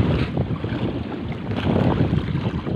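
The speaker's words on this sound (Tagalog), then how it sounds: "lumalakas na naman ang ihip ng hangin" Strong wind buffets a small fishing boat at sea, a loud, gusting roar rumbling against the microphone with choppy surges and no voices.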